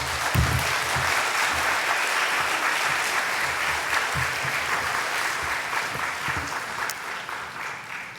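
A church congregation gives a warm round of applause to welcome a visiting pastor, dense steady clapping from many people that holds throughout and eases slightly toward the end.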